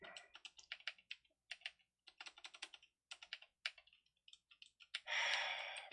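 Keys clatter on a computer keyboard in quick, uneven bursts of close clicks with short pauses, ending in a brief breathy rush of noise.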